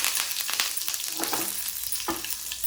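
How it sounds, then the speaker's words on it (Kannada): Mustard seeds and a red chilli crackle in hot oil for a tempering, a close, continuous sizzle with scattered pops and stirring, without any talk. "ಒಗ್ಗರಣೆ ಸರಿದೆ ಕಾಯಾಡು ಒಗ್ಗರಣೆ ರೆಡಿ ಆಡು"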